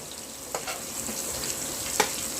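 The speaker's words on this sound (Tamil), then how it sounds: "சாதா வெங்காயம் சேர்த்து நல்லா சிகப்பாக வர வரைக்கும் வதக்கி எடுக்கணும்" Onions sautéing in plenty of oil for potato pulao, a steady close sizzle with a couple of soft stirring knocks.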